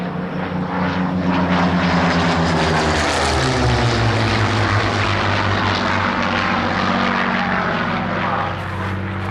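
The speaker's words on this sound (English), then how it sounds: "here it comes, the one and only Supermarine Mark II Spitfire!" Supermarine Spitfire Mark II piston engine roaring loud and continuous as the aircraft passes overhead, its steady propeller drone shifting in pitch as it goes by.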